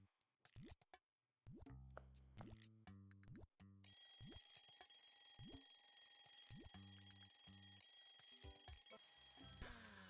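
In the Papa's Freezeria video game, an order bell rings in bright, repeated electronic chimes over the game's music and effects, starting in short bursts and then ringing steadily for several seconds.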